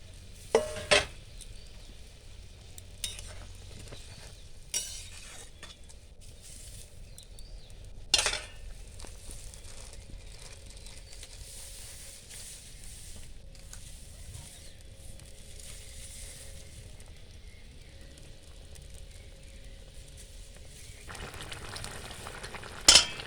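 Bengali singi fish curry bubbling in a pan as fried fish and fried eggplant go in, low steady simmering with occasional utensil clinks and pan knocks, close and quiet.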